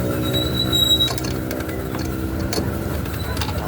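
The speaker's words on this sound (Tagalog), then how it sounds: "pakinggan nyo yung tunog ng makina" A Barako 175 motorcycle engine with a sudden abnormal noise runs after being kick-started, giving a steady close mechanical drone with rapid ticking and rattling throughout.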